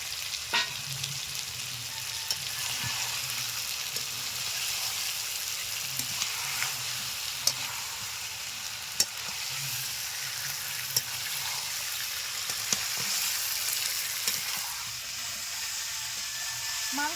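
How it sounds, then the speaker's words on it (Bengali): Chicken and potatoes, both fried earlier, sizzle steadily in a pan for a chicken curry, with a continuous frying hiss and scattered soft scrapes of stirring. No voices are heard. "দেওয়ার পরে তিন চার মিনিট নাড়াচাড়া করে নিলাম"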